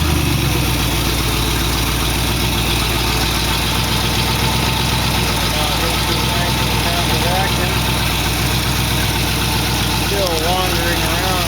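A 1914 Dodge roadster engine fitted with Holley carburetors idles steadily and loudly up close, a continuous low rumble with a slightly uneven, wandering rhythm throughout.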